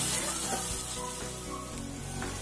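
Onions sizzle and fry steadily in a pan as turmeric powder is added, a close, continuous crackle with faint background hum and no talking.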